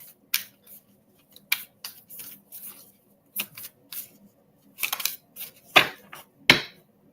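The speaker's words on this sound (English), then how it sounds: "y'all seen me shuffle the shit out of that deck" A deck of tarot cards is shuffled by hand in irregular bursts of crisp riffles and sharp snaps, close and with no talking.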